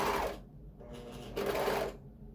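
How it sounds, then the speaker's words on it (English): A sewing machine stitches a T-shirt sleeve and shoulder seam, running in two short close bursts with a brief quieter pause between them. "Go ahead and sew over the middle."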